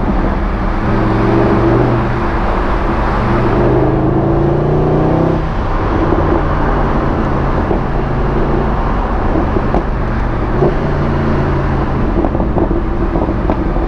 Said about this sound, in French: T'as vu comme ça pète à l'échappement, c'est un truc de fou.